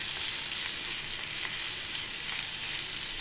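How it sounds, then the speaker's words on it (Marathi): Chopped carrots and capsicum sauté in a hot pan for leftover-rice garlic rice, giving a steady, close, continuous sizzle and hiss with no talking. "शिमला मिरची चिरली ती बारीक ती टाकूया आणि आता छान परतून घेऊया आपण"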